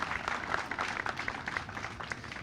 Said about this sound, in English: let's have a nice round of applause for Joe